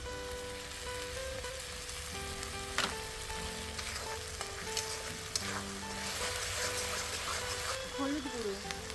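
Steady sizzling in a pan as green chili paste and tomato paste go in for a prawn malai curry, continuous frying with occasional stirring scrapes, under a speaking voice.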